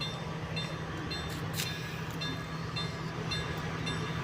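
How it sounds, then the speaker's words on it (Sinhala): A train pulling into a village station, heard as a steady, continuous rail rumble with a low hum running throughout and no voices. "දැන් කෝච්චිය ඇවිල්ලා තියෙන"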